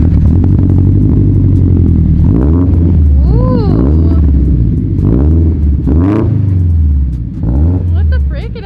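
Supercharged BMW E92 M3 engine revved hard close up in repeated surging blips that rise and fall, with a deep rumble between them and voices talking over the noise.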